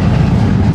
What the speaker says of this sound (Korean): 네, 기차가 지나가서 좀 기다려야 돼요.